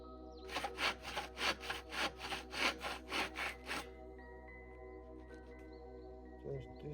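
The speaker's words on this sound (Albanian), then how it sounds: "Dhe tani do duhet t'i presim vetë manualisht me sharr" A hand saw cuts through wooden boards for a flower bed, about a dozen rhythmic rasping strokes at close range over a steady low hum, then quiet with faint handling sounds.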